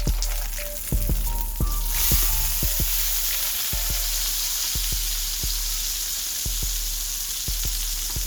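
An Impossible vegan burger patty sizzles in a pan, a constant close hiss with sharp scraping and tapping of a utensil at irregular intervals, a louder burst around the flip, no voices.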